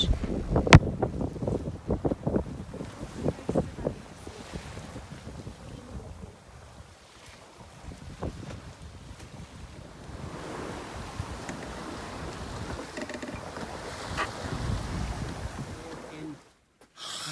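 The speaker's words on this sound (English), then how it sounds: "We're now sailing along the north coast of Anglesey towards our anchorage." A sailboat on a beam reach along the north coast of Anglesey at about 7.5 knots, with steady wind roar buffeting the microphone and water rushing and splashing past the hull. There are louder gusts early on, then a continuous broad wash.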